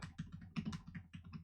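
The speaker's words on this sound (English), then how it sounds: "I'm gonna do the background noise test with the keyboard in the background" Close, rapid keystrokes on a computer keyboard clatter in quick bursts, loud and steady, with no voice on top.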